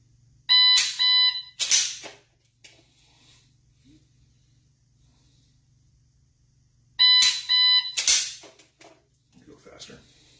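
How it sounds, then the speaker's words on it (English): Two loud electronic shot-timer buzzer bursts several seconds apart during dry-fire drawing practice, each followed by quick sharp clattering noises; a quiet stretch separates them. "As soon as that buzzer goes off, I'm yanking that trigger"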